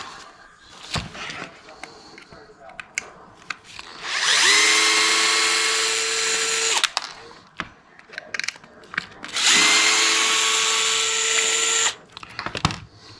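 A power drill spins out the gear cover screws on a Traxxas X-Maxx RC truck in two whirring bursts of about three seconds each, with clicks and handling noises between them.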